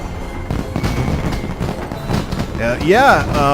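Fireworks at the Darkmoon Faire in World of Warcraft crackle and boom beneath a busy game mix, with a bright whistling burst rising near the end; a voice talks over it.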